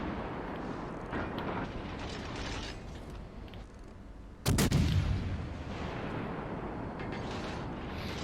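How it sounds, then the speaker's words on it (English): Naval guns fire in the World of Warships Legends game aboard the destroyer USS Benham: one sharp, loud boom halfway through stands out over a creaking, mechanical game soundscape. "just start opening fire at range"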